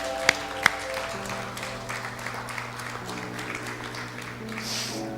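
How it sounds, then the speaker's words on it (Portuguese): A church congregation applauds for the Lord: two sharp claps stand out at first, then softer, scattered clapping continues over sustained instrumental tones. "Dá um aplauso para o Senhor."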